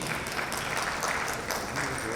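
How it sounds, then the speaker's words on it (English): An audience at an entrepreneur event applauds a speaker being welcomed, with dense, steady clapping filling the room for a couple of seconds. "There we go, big round of applause"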